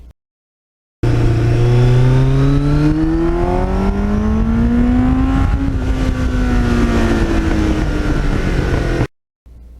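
A 1989 Kawasaki GPX750R motorcycle with a Muzzy aftermarket muffler revs up, its engine note rising and falling in loud, close sweeps before cutting off abruptly.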